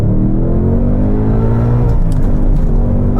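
A 2022 Ford Mustang Mach 1 V8 launching from a standstill in race mode, a loud deep engine roar building steadily in pitch as it accelerates, heard up close from inside.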